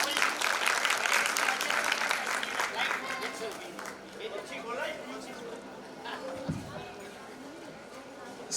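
An audience at a nursing institute's graduation ceremony applauds to welcome a guest, a dense burst of clapping that fades gradually into scattered claps and murmur under a speaking voice.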